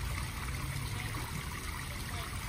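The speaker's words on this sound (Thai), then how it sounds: "เสียงน้ำตก" Waterfall in a hotel lobby, a steady, even rush of falling water, soft and continuous with no other sounds.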